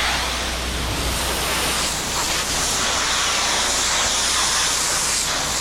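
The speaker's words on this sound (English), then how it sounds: "Now we're just going to give it a nice rinse and get all that soap out of the cracks in the artificial" Pressure washer spraying a steady rinse across artificial turf to flush soap from the cracks, a loud continuous broadband hiss held evenly throughout with no breaks.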